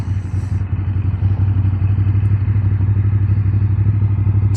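Ducati Monster motorcycle of about 150 horsepower riding along, its engine giving a steady, loud low drone with a continuous throb that stays level throughout, no talk.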